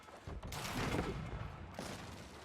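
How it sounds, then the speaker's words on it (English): Hand cannon gunfire from a battle in the strategy video game Age of Empires 4, a dense rolling fusillade of overlapping shots mixed with clashing combat noise, sustained and fairly loud throughout. "occasionally missing hand cannon is coming out"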